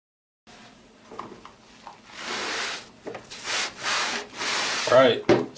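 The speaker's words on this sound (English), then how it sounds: "scrub them real good, try to get all the dirt off of it" Dirty RC crawler transmission parts, caked with trail crud, are scrubbed by hand in close, rhythmic bursts of rubbing that swell and fade with each stroke, with no talking over them.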